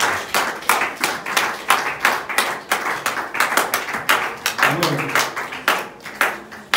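A church congregation at a Sunday worship service claps steadily in rhythmic unison to acclaim the Lord, the sharp, even beats continuing throughout with faint voices underneath.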